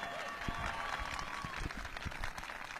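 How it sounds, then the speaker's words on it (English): Audience applause fills a White House event, dense steady clapping from a crowd with some voices mixed in, fairly quiet and continuous throughout. "Give Sophie a big round of applause."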